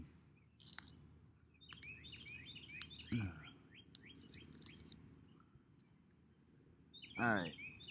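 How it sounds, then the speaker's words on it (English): Garden birds chirping and tweeting in short, scattered bursts at moderate distance, with a louder call near the middle and another near the end over quiet outdoor background. "Hear the birds?"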